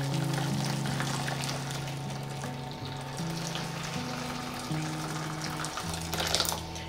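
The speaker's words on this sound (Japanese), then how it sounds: "では解凍するためにこちらの容器の中にお湯を入れます" Hot water pours steadily into a container to thaw frozen feeder mice, a continuous close splashing stream with shifting tonal pitch as the vessel fills, no talk.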